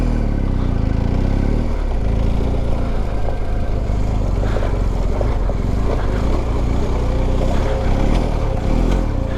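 An adventure motorcycle in second gear rolls steadily over a trail obstacle, its mid-pitched engine droning continuously and close by, with faint knocks and thumps from the terrain mixed in.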